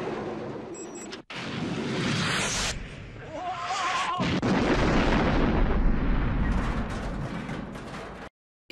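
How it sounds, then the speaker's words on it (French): A semi-trailer truck blows up in the James Bond film Licence to Kill: a loud, rolling explosion with a heavy roar that swells and stays dense for several seconds before cutting off abruptly. "l'explosion d'un des semi-remorques dans Permis de tuer"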